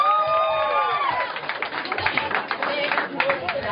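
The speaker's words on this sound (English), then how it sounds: "Give him a round of applause." Crowd applause and cheering after a contestant's turn at a school science event, steady clapping mixed with whoops and voices, fairly loud and continuous throughout.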